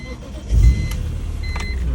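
A BMW E46 M3 engine cranks and catches, settling into a steady low rumble that holds close by to the end.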